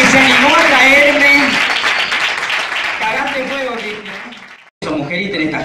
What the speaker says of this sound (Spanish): Fuerte el aplauso, por favor, para Cristian Quiroga